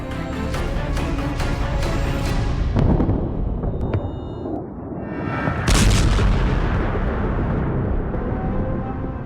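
War footage of Iran–Israel fighting carries heavy, rumbling artillery booms and explosions, loud and dense with a big blast near the middle and continuous roaring wash throughout.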